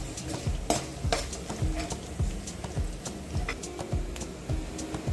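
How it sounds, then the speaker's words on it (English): Peanuts roasting over a medium flame in a pan for thin poha chivda, stirred with a regular scraping rhythm of repeated close spoon strokes over a low sizzling bed. "Now I will add the peanuts and roast them on a medium flame"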